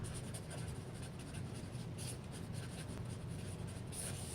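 A hand writes on paper with continuous soft scratchy rubbing strokes, close and faint, with no talk.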